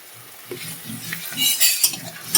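A spoon stirs curry with ginger paste, turmeric and herb leaves in a metal pan, producing close, irregular scraping and clinking strokes over a soft sizzle, growing busier and louder toward the end.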